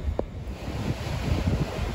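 Strong gusty wind buffets the microphone on an exposed mountain edge in the Knuckles range of Sri Lanka, a steady roar with low rumbling gusts and no voices.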